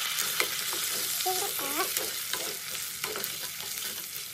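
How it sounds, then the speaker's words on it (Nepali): Food sizzles and fries in a hot pan while a utensil scrapes and stirs it in short, irregular strokes, close and steady. "यसलाई छोप्दै चलाउँदै भुट्दै है मजाले भुटेर रातो रातो"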